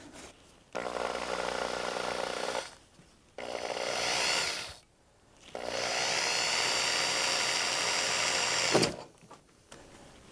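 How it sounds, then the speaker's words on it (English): A power drill whines in three long, steady bursts separated by short pauses, loud and close, grinding through a shower base. "I'm going to drill my hole through there with the drill bit there."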